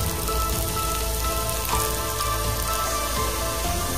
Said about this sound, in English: I'm going to saute them till they are nice and soft